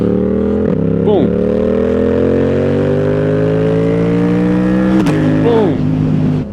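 A 2025 Yamaha MT-07 motorcycle revs hard under acceleration, its engine note climbing steadily and dropping abruptly at two quick clutchless quickshifter upshifts, loud and close.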